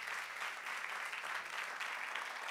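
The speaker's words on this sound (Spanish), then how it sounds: "Denle un aplauso bien fuerte a nuestro Dios" Applause from a church congregation, steady even clapping heard from a distance at low volume, with no voices standing out.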